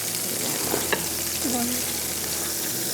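Butter melting in a pan gives a steady, close hiss of soft sizzling, with a short voice briefly heard over it.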